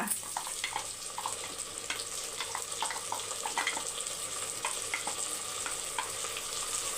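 Shallots and tomatoes sauté in a pan while cooking biryani and chicken curry, giving a steady, close sizzle of frying with occasional stirring clinks throughout, no voices.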